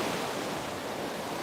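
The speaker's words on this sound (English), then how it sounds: "I cannot get over the sound of the waves today." Ocean waves washing onto a beach on a calm, less windy day, a continuous dense roar of surf filling the short stretch with no voices.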